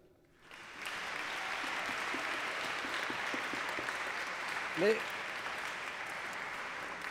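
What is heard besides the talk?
applause in church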